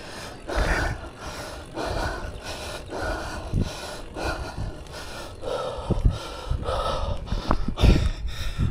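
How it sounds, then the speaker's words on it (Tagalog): Heavy, rhythmic panting from a cyclist catching their breath after a steep uphill bike ride near Angono, Rizal: loud, close gasping breaths repeating steadily with snorting exhales and no talk. "Puro hingal na lang may maririnig nyo sa video."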